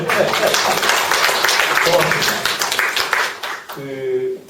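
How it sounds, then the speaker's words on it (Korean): Seminar audience claps for a few seconds, a fairly close, steady patter of many hands mixed with voices talking, then the clapping fades and a single voice carries on alone. "박수도 좀 쳐주시고 그러시네"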